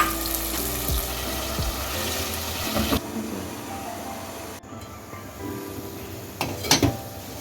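Water poured from a tap-like stream into a pan of frying potatoes with spices, a loud close gushing and hissing sizzle that runs steadily, then quietens before a few final splashes.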